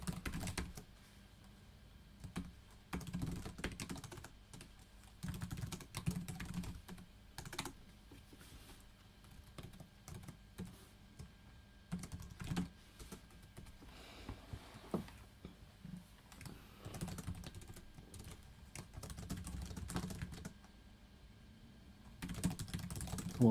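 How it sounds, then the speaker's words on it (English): Steady bursts of typing on a computer keyboard, close and quiet, with irregular clusters of key clicks and short pauses, and no talking. "I'm almost done typing up question 1."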